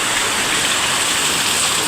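Water trickling and dripping off rocks at Uwan Uwanan Falls in the mountains, a steady dense wash of falling water filling the whole stretch, close and fairly loud with no voices.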